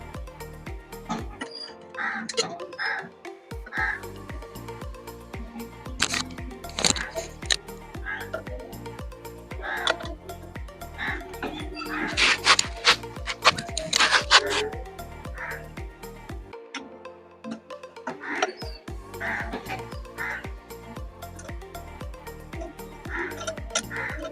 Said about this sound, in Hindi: इस प्लेट के 3-4 पेच लगे होते हैं, तो हमारी इस मधानी के अंदर 3 पेच लगे हैं, तो हम तीनों को खोल लेंगे।